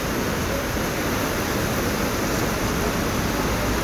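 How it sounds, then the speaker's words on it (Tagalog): Floodwater from a heavy nighttime rainstorm rushes in a dense, unbroken roar, loud and close, filling the whole stretch without any voices. "Oh, ang lakas ng tubig."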